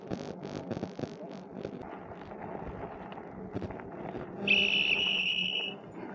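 A sharp, shrill whistle is blown during a seaside ride on a snow bike or e-bike, one sustained blast lasting about a second amid wind and rolling road noise, after some brief knocking sounds.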